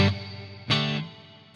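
Two sustained guitar notes pass through the spring reverb of a Zoom GFX10 multi-effects unit, each swelling and then decaying into a metallic, echoing wash. The notes are loud and close, with no talking.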